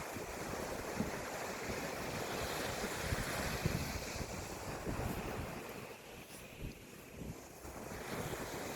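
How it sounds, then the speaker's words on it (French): Ocean waves washing onto a shore, a soft continuous surf wash blended with wind buffeting the microphone, fairly quiet and steady with small swells. "surtout avec le bruit des vagues"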